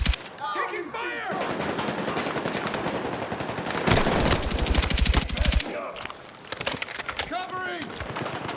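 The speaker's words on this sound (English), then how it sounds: "Taking fire!" Sustained automatic gunfire in the video game Battlefield 6 during a night raid through a souk, dense rapid bursts rolling almost continuously with heavy impacts near the middle, loud and close, with shouted voices and combat chatter in places.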